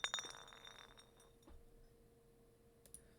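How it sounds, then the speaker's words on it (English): A soft glassy clink of a small object dropping out of a pocket in the video game Zero Escape: Virtue's Last Reward, a faint brief tap at the start followed by quiet ambience and a second light tick near the end. "something fell out of his pocket with a soft clink"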